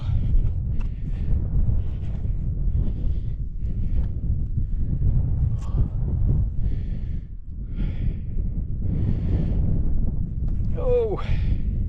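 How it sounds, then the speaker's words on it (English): Gusts of cold wind at a wild camp buffet the microphone with a steady, low rumble throughout, broken by breathy sighs and vocal sounds from someone nearby. "God, that wind's cold."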